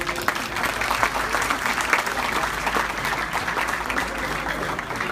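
An audience at a celebration at a mosque center in Washington applauds after a recitation, with sustained, even clapping from many hands at moderate loudness.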